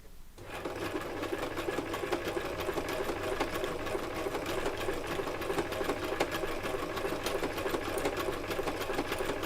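Sewing machine running steadily while stitching through card for hand-coloured black and white images, a continuous close whirring drone with even rapid needle rhythm throughout, no voices.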